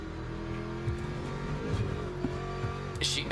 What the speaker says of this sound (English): Porsche, it's revving the shit out.